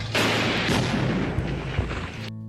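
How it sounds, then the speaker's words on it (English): Gunfire from a shootout in The Godfather, where an armed man fires on security guards during an escape: a dense, continuous roar of shots and booms lasting about two seconds, loud and close, then cutting off abruptly. "He appears armed, shooting at the security men to protect Vito's escape."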